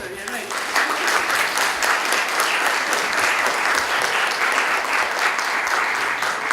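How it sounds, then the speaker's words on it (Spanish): Lecture-hall audience giving a sustained round of thanks applause for a professor at a conference, dense even clapping that swells after a brief start and holds steady throughout. "quisiera empezar esta reunión con un aplauso de agradecimiento a la profesora Verena"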